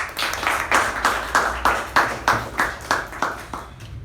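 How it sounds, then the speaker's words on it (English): An audience at a Toastmasters club meeting claps in a steady, rhythmic beat, roughly two strong beats per second, close and fairly loud, fading slightly toward the end. "a huge round of applause"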